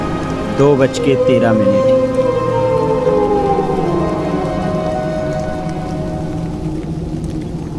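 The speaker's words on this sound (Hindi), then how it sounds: "तेज बारिश के बीच" Heavy rain pours steadily in a village at night, a dense continuous hiss beneath a wailing siren-like tone and dramatic sound effects, with a voice speaking briefly at the start.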